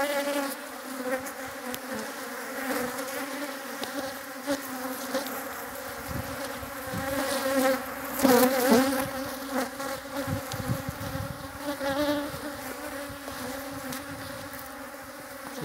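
Honey bees buzz steadily around a small nucleus beehive, a dense continuous hum close by with slight swells in loudness and no talking.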